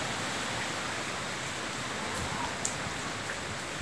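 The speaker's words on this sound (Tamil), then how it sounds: "மழையும் செம மழை பெய்யுது." Steady heavy rain hisses continuously during Cyclone Nivar in Tamil Nadu, a dense broadband wash with no pauses and no voices.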